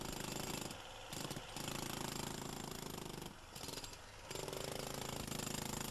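A jackhammer pounds concrete off a foundation pile head in dense, continuous rapid blows. The hammering is loud and close and breaks off in two short pauses.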